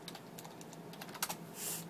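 Someone types on a computer keyboard, entering a search into Google: a quick, faint run of light key clicks close by, with no talking.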